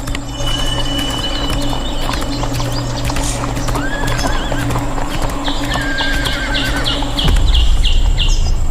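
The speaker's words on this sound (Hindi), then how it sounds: "यदि हम घोड़ा अंदर लेकर गए तो हमारे पहुंचने से पूर्व ही आखेट तक हमारे घोड़े के पैरों की ध्वनि पहुंच जाएगी" A horse's hooves clip-clop in a steady rhythm, close and clear, with a whinny and some mechanical rattling in the background, and no talk.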